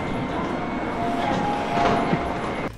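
Steady rumbling of a moving train from Hakata Station to Fukuoka Airport heard from inside, a continuous low roar with faint rail hum and a soft clack near the end.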